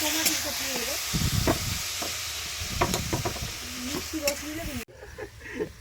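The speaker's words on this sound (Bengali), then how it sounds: "এবার রাজুদার টমেটো নাড়ছেন।" Tomatoes sizzling in a hot wok at a picnic while a utensil scrapes and stirs in repeated strokes, with a voice talking over it at times.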